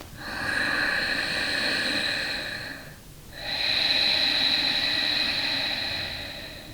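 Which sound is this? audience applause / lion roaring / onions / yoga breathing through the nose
yoga breathing through the nose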